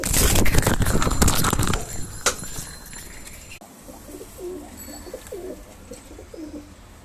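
Pigeons of the Giribaz breed coo on a pigeon farm, soft rhythmic coos nearby after an opening burst of rustling and wing flaps, with no talking.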